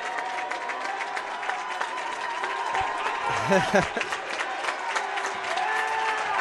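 Home crowd at an Earlham men's college basketball game against Albion cheering and applauding, a steady wash of clapping and voices under a commentator talking.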